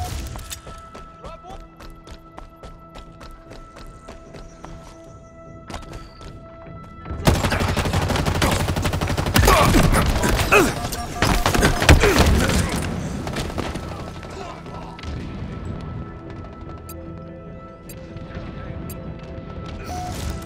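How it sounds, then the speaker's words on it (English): Bursts of M840AR assault rifle fire in the video game Halo Infinite, with dense rapid shots and booms that swell into a loud sustained barrage midway, then thin out to intermittent firing. "the assault rifle. It's called the M840AR."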